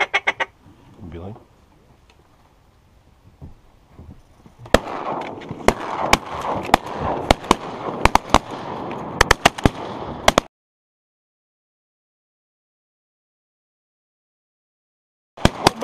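Shotgun blasts ring out during a duck hunt on Reelfoot Lake, several sharp, loud reports in quick succession amid a wash of quacking ducks and flapping, with people talking nearby before an abrupt silence.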